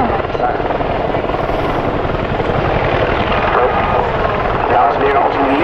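A Royal Netherlands Air Force Apache attack helicopter flies in an air power demonstration at the 2013 Volkel Airshow, its rotor a loud, steady, close throbbing roar with engine whine that fills the whole stretch.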